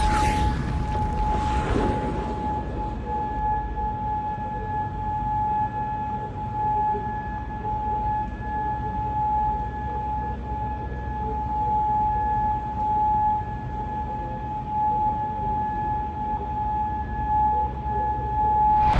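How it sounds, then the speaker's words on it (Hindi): An air raid siren in Kuwait holds a steady, sustained wail across the whole stretch, loud and unbroken, with a brief rush of noise at the very start. "सायरन बज रहा है।"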